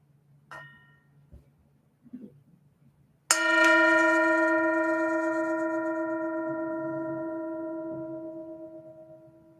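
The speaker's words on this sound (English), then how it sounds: "I'll invite the bell to sound" A meditation bell is struck once and rings out clear and loud, its bright metallic tone slowly fading over about six seconds in a quiet room, after a few faint taps and rustles.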